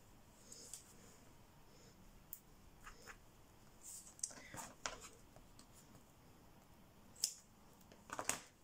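Scissors snip paper in short, scattered cuts with quiet pauses between, close and fairly soft, amid light handling noises.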